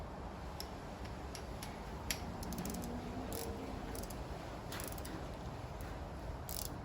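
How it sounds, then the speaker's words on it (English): Steady ticking and ratcheting from a torque wrench set to 9 newton meters, tightening a screw on a manifold, with light irregular clicks heard over a constant hiss. "Now we'll get said torque wrench, which I've already set to 9 Newton meters."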